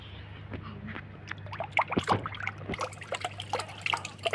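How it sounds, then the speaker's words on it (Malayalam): Water trickling and splashing into a fish tank, irregular gurgles and drips over a low steady hum, fairly close and moderately quiet. "ഞാൻ അതിൽ വെള്ളം നിറയാൻ പോയി"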